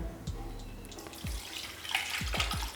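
Water is poured into rice for seeraga samba chicken biryani, a steady liquid splash with several short gurgling glugs and clinks near the end, close and fairly quiet.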